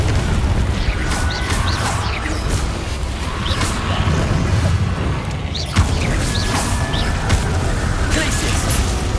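Confringo spell explosions in the Hogwarts Legacy video game burst repeatedly amid combat clatter, a dense run of booms and crackling pops with a sharp crash near the middle, under a talking voice.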